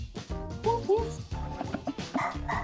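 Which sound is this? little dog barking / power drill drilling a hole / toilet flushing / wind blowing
little dog barking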